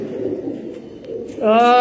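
Blue-eyed Rampuri pigeons coo close by, low soft murmuring giving way to a louder, clearer coo near the end.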